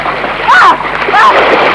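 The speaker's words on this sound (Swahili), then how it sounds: "Umeteleza, nimetumbukia huku kwenye mto." A character slips and plunges into a river, raising a continuous rushing splash of water with squealing vocal sounds on top.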